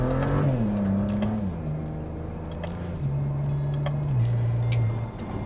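A BMW with a ZF6HP transmission short-shifts through the gears in manual mode, its engine drone stepping down at each quick upshift while road noise hums steadily inside the cabin, with no talk.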